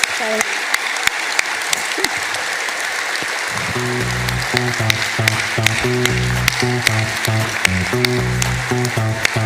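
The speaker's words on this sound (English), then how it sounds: "I'd love everybody to give Tayaba a warm round of applause for the great work that she does" Warm audience applause at a Rotary Club meeting on World Polio Day, steady and full throughout, joined partway by a loud, rhythmic musical tone with distinct sharp claps standing out on top.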